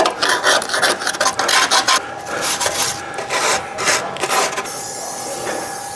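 Close, harsh scraping and rasping as corrosion is cleaned off a Land Rover Discovery 3 suspension mount, in quick irregular strokes that grow sparser toward the end, with no voices.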